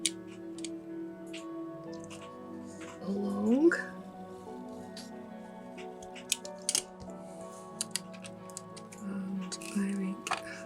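Perspex sheet is scored and cut for the windows of a Rolife miniature house, giving sparse, sharp ticks and clicks with a brief scraping squeak, under intermittent quiet talk.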